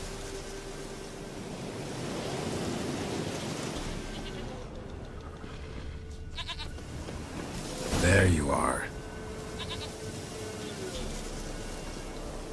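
A goat in the video game The Witcher 3 gives one short bleat partway through, heard over a steady windy, surf-like outdoor ambience, with a voice speaking briefly.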